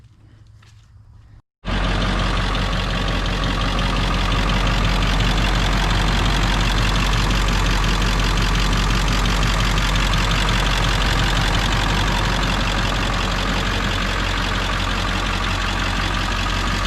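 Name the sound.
truck engine running after power steering line repair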